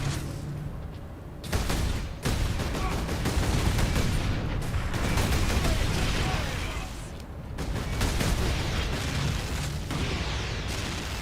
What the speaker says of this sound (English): Who's chucking grenades?